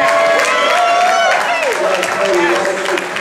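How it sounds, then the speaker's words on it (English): Audience applause at a benefit concert for George Meyer with an all-star band, a steady dense wash of clapping under a voice and tonal music throughout. "Give him a round of applause."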